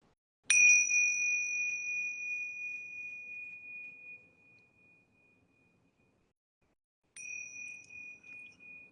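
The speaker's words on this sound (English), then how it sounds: "I'm going to ring these yoga bells 3 times" A yoga bell rings with a bright, pure tone that hangs and slowly fades for several seconds, then after a pause a second strike rings out with a wavering, pulsing decay, clear and alone in a quiet room.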